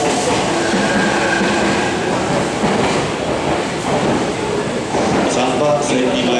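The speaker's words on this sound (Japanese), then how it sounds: "3番線に参りました電車は45分発太田川知多半田方面に参ります。" A Meitetsu Nagoya Main Line train pulls into platform 3 at Kanayama Station, a loud continuous rumble of wheels and rail noise with clattering and some squeal, while a station announcement plays over it.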